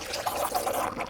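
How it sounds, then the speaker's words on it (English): A ground bloom flower firework spins inside a water bottle, giving a continuous rushing, hissing spray with fluttering texture, fairly loud and close, lasting just over a second. "let's go ahead and see how the ground bloom flower does inside the water bottle"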